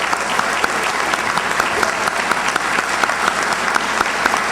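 A commencement audience at Marlboro College applauds a guest, a loud, full round of clapping with sharp individual claps standing out from the steady wash.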